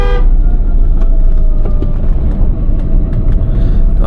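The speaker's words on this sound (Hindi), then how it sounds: "जो रियल कार एंथुसियास्ट है ना, उनको पता लग जाएगा कि गाड़ी अच्छी कंडीशन में है कि नहीं है, मतलब इंजन की आवाज़ से" A 24-year-old Maruti 800 engine running in Shimla, a loud, steady low rumble that fills the whole stretch, with brief horn-like tones and clicks at the start and scattered through.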